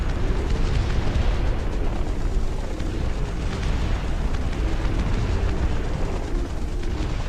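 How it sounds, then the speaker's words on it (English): Bombs dropped in the real-time strategy video game Dust Front RTS explode in a dense, continuous rumble of overlapping booms that stays loud and steady throughout, with no voices. "Drop some bombs."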